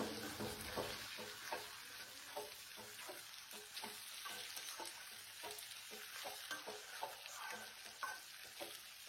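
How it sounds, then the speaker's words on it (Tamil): Tomato and curry leaves sauté in a pan for a dry fish curry, giving a constant close sizzle with frequent scraping and stirring strokes of a spoon against the pan. "ஒரு தக்காளியை இதில் சேர்த்து வதக்கலாம்."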